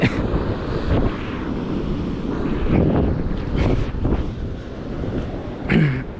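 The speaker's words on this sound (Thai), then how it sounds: "พยายามบังลมแล้วนะทุกคนเพราะว่าเสียงมันแห้งอีหลีมันทะเล" Gusty sea wind buffets the microphone on the Sri Lankan coast in low season, a loud, rumbling roar with repeated surges and no clear talking.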